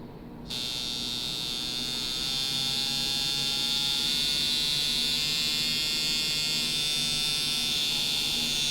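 Tattoo machine switching on and buzzing steadily, a close, bright electric hum that holds constant for several seconds with no speech.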